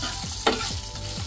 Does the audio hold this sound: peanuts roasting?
yes